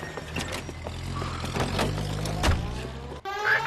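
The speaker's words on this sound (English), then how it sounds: "That's the car, Cole. Just pulling out of the drive." In L.A. Noire, a car pulls out of a driveway with a low engine hum, a few thunks and mechanical clicks, rising briefly before a short gap and a final burst.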